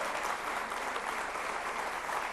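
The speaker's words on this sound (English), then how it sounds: "Please give him a very warm round of applause." An audience greets Bhutan's prime minister with steady, even applause, a continuous wash of claps heard at some distance and fairly quiet.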